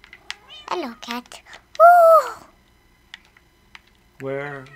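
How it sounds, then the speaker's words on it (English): A cat in the Minecraft video game gives one clear, drawn-out meow in the middle, with a person talking before and after it. "Hello, cat."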